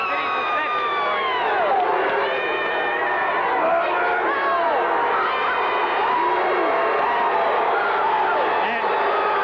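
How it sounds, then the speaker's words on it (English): A packed high school basketball gym crowd in Gate City roars with sustained cheering, shouting and whoops that stay loud and dense throughout as a player returns to the court. "And you hear Gate City's reception for him."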